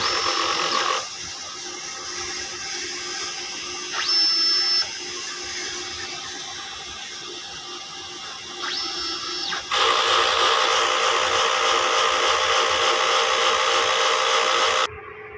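A DTF printer running a print head cleaning cycle: steady mechanical whirring and pump hum with two brief high-pitched whines, then a louder, denser stretch of machine noise near the end. No talking.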